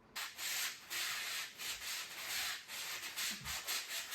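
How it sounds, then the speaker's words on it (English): Steady abrasive scraping of sandpaper on a drywall ceiling, in repeated back-and-forth strokes with brief pauses, close and continuous. "My least favorite part, the sanding,"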